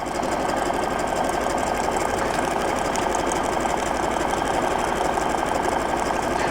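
A sewing machine running a continuous narrow zigzag satin stitch on a skateboard fabric applique, a steady loud mechanical whir and rapid needle chatter that holds unbroken throughout, with no talking.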